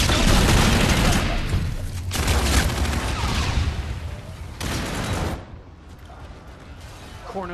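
Dense gunfire from a Call of Duty: Infinite Warfare multiplayer match, rapid overlapping shots and booms that stay loud and continuous for several seconds before easing off slightly near the end.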